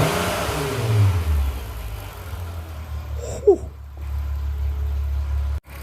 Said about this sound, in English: I'll give it a little bit more revs now.